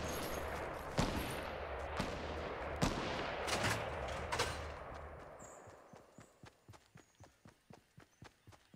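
Rapid bursts of gunfire in the video game Fortnite, first as loud dense volleys, then as a quick rhythmic series of sharp evenly spaced shots that grow more distinct toward the end.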